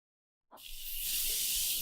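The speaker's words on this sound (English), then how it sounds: "I'll set it with a spray." Makeup setting spray bursts from a nozzle onto a finished base, one close continuous hiss that starts sharply after a half-second of silence and stays steady and fairly loud.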